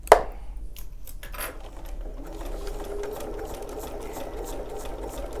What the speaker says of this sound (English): I'm just going to start with sewing the waistband on.